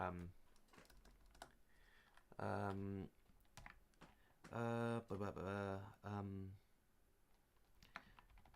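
Keyboard typing of notes, quick clicky keystrokes in short bursts, close and fairly quiet, interleaved with a person speaking.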